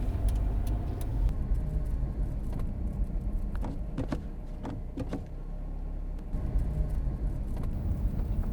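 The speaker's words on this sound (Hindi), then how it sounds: "ये गाड़ी को क्या हो रहा है? मुझे लगता है मैकेनिक को बुलाना पड़ेगा।" A car's engine struggles on a night road, a low uneven rumble punctuated by repeated sharp clicks and knocks, heard up close and fairly loud.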